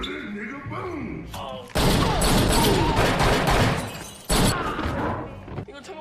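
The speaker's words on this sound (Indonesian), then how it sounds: "Pinball pun selamat dengan datangnya Bond ke sana yang langsung menembak jatuh Hammerman" Gunfire in a film scene: loud bursts of shots and crashing impacts erupt after a moment of talk, continuing in dense volleys with a brief pause before another burst.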